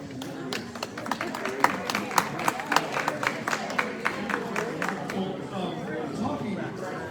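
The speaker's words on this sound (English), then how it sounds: "give them a big round of applause" Audience applause at an evening art awards announcement for a Texas plein air painting event, a steady patter of many hands clapping at moderate distance, with scattered louder claps over a dense crowd wash.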